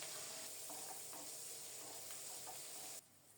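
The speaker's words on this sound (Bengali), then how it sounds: "কাঁচামরিচ রসুন ভালোভাবে ভাজা হয়ে গেছে" Green chilies and garlic fry in a pan with a steady, dense sizzling hiss and a few faint stirring taps, then the sizzle drops away abruptly near the end.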